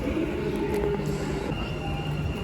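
A Dubai metro train runs along the track with a steady rumble and faint high wheel squeal, heard close from inside or beside the carriage with no talk.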